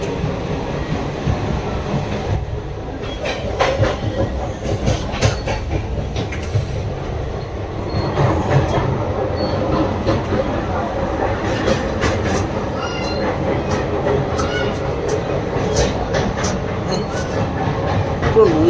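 Indian Railways' Kanchenjunga Express runs along the track, heard from inside as a continuous loud rumble with rhythmic clicking wheels and scattered metallic rattles and squeaks throughout.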